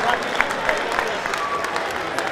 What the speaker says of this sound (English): a round of applause for two gallant boxers